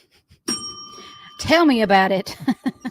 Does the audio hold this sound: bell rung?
yes